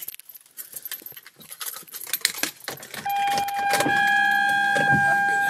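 Keys jangle and rattle for a few seconds, then a car's electronic chime begins, a steady high tone holding through the end.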